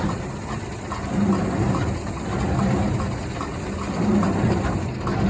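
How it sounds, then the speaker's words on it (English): An old-style hay baling tractor idles with its PTO engaged, a low, steady mechanical rumble that swells and eases in a slow rhythm, heard close with chain and driveline clatter beneath. "I've got the PTO on just barely idling."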